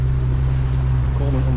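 A small fishing boat's engine runs steadily on the water in a loud, close, unbroken low hum during a trip out for mackerel.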